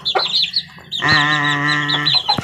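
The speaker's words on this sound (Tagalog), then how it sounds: "Kompleto pa rin yung mga sisiw ni Bangkas. Ayan, at si Bangkas guys nangingitlog na" Gold-hatch hen and her chicks: high chick peeps at the start, then a loud, sustained hen call with a rich tone, close and clear, followed by more peeping.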